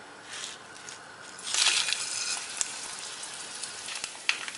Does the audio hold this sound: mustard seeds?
yes